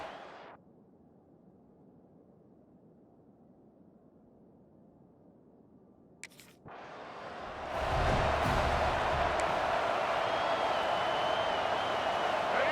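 A college football stadium crowd on a third down, quiet at first, then swelling into a loud, sustained roar of cheering that fills the rest of the moment.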